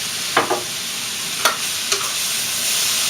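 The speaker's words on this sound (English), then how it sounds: "I'm going to mix the mushrooms in with the broccoli, like so." Mushrooms and broccoli stirred in a pan with a little olive oil: a few brief scraping stirs over a steady, loud sizzle.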